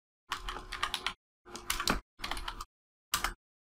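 Keystrokes on a computer keyboard while Python code is typed, arriving in four short bursts of rapid clicking separated by brief pauses, close and clear with no talking.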